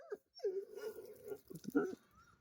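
A dog that has just been attacked by stray dogs whimpers and whines in faint, short, high-pitched cries, with a few breaks between them.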